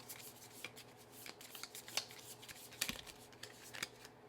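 Tarot cards riffled and shuffled by hand, a steady run of soft papery flicks and taps over about four seconds, faint and close, with no voices.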